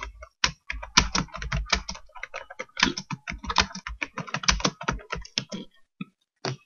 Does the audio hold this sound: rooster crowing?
no